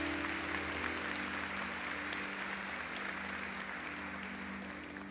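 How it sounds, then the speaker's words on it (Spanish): A church congregation applauds in praise during a Spanish-language worship service, a steady, dense wash of clapping that holds throughout and tapers slightly at the end, with no talk over it. "Dale un aplauso al Señor"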